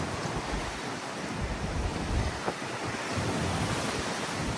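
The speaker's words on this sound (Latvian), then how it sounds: "Pasties brāzma uzpūta." A strong gust of wind blows outdoors in a storm, a loud broadband roar with rumbling buffeting on the microphone that surges and holds for several seconds, with no voices.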